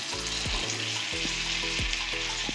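Pumpkin pieces frying in a pan with fried onions, a continuous close sizzle with a few scraping stirring strokes over it, steady and moderately loud.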